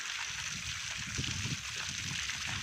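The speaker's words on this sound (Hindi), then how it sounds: "भिगा ले हाथ हाथ धो ले बेटा" Water pours and splashes steadily at close range as a child's hands and face are washed at a house construction site, a continuous trickling and gurgling with no clear speech.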